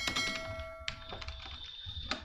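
Soft, quick clicking of computer keyboard keys while typing in Excel, close and fairly quiet, with a faint tonal hum in the background.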